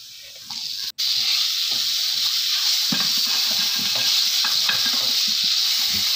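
Chopped tomato sizzles loudly in a pan of onions and Kashmiri chilli powder as it is sautéed, with a steady close frying hiss throughout and occasional scrapes and knocks of a spoon stirring it.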